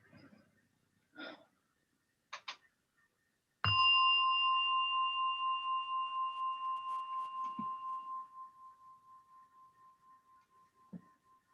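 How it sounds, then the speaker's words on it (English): A meditation gong is struck once to begin a mindfulness session, ringing out clearly and loudly, then sustaining a pure pulsing tone that slowly fades, with a few soft breaths and small knocks before and after. "as you hear the gong, then I will guide you"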